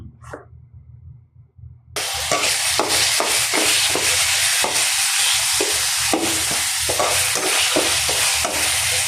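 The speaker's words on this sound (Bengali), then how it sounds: "টমেটো আমি ফ্রোজেন করে রেখেছিলাম, ভেজে রান্না করব।" Frozen tomatoes and beans hit hot oil, setting off a loud, steady sizzle that jumps in after a quiet start and keeps going, with rhythmic scraping and stirring strokes over it.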